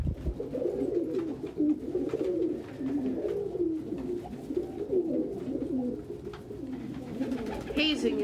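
Pigeons gather at a food and water dish indoors, cooing and burbling in overlapping low calls close by, with soft shuffling and fluttering throughout and occasional faint noises in the room.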